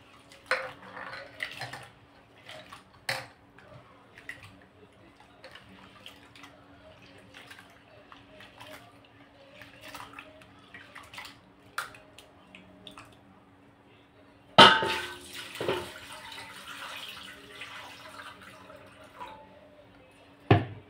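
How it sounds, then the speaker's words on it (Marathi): White urad dal being washed in water in a kitchen bowl, intermittent sloshing, light clinks and drips, then a louder pour and swish near the end. "ही 2 वेळा पाण्याने आपण धुवून घेणार आहोत"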